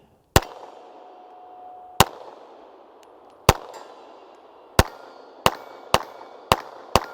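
A Steyr M9-A1 pistol is fired at a 100-yard target, eight sharp loud shots at irregular intervals with short ringing decay between them, no talk.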